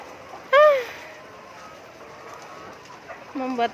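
Fowl calls from 14-week-old laying hens on a poultry farm, some sick with coryza: a loud squawk near the start, then quieter calls near the end over faint barn ambience.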